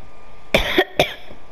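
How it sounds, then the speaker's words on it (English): Two short coughs close together, near and fairly loud, with no other sounds around them, from a Fortnite game session. "Cough, cough."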